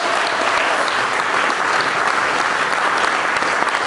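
A church congregation breaks into sustained, dense applause that fills the space evenly, loud and steady from start to finish with no voices standing out.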